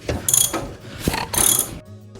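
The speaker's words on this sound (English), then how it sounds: "I'll go down below and loosen up that PTO clutch bolt" A ratchet loosening the PTO clutch bolt on a Briggs and Stratton Intek V-twin 20 hp engine, with two close, loud bursts of rapid clicking pawl strokes, then a brief quieter tail.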